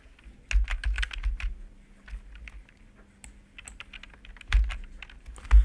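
Rapid typing on a computer keyboard, irregular bursts of clicking keystrokes close by with brief pauses and a few louder thumps.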